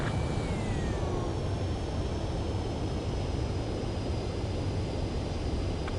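A fighter jet on a landing approach to a runway in the video game Ace Combat 7, a steady loud engine roar with a faint descending whine, continuous and unbroken.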